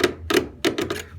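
A knife scores across the grain of a thin wooden shim, making four or five short, dry scratching strokes in an uneven rhythm, close and fairly quiet.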